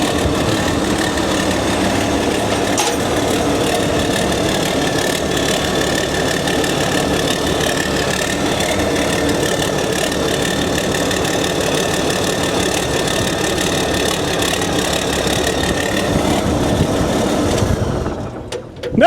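A bulldozer engine idles steadily and loudly with a constant mid-range rumble throughout, cutting off abruptly at the very end.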